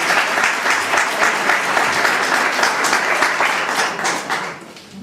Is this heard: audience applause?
yes